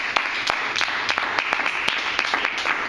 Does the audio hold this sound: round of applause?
yes